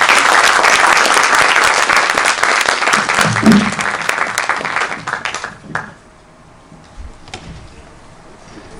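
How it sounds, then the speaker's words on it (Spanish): A lecture hall audience applauds loudly to welcome a guest lecturer at an IPN research institute talk, dense clapping for about five seconds that then fades out to near silence. "Lo recibimos con un fuerte aplauso."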